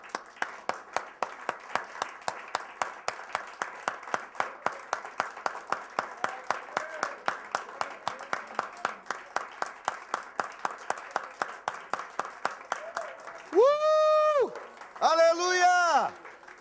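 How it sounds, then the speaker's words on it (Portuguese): A church congregation claps in a steady, rhythmic beat for a long stretch, sharp regular claps heard close, before voices rise in loud exclamations near the end. "Eu sinto vontade de dar um aplauso ao Senhor, não sei você."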